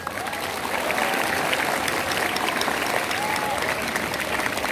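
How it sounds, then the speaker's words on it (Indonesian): Sustained applause from a crowd at an Indonesian Independence Day flag ceremony at a high school in Pekanbaru, steady clapping filling the whole stretch with a dense, even texture. "Tepuk tangan dulu."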